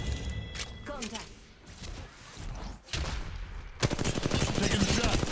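Rapid gunfire bursts from Apex Legends Mobile ranked play crackle through dense firefights, short volleys and sustained automatic fire, with a voice calling out over the action.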